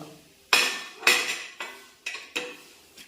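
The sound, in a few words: stirring horse gram chammanthi powder in pan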